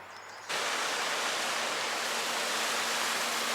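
Steady broadband rushing water from a river in Montpelier, Vermont, starting abruptly after a half-second of quieter background, then holding constant and loud, flowing close by.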